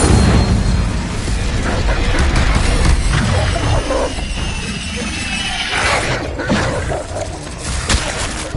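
Incendio fire spell cast in Hogwarts Legacy, a loud, dense burst of roaring flame and booming crackle that sustains across the whole stretch, close and full, with game effects layered underneath.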